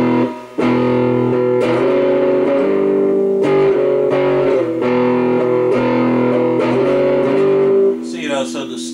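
A distorted electric guitar plays a riff through a Tube Works Tube Driver pedal, thick sustained overdriven notes repeating in a loud, close pattern that ends in scratchy string noise.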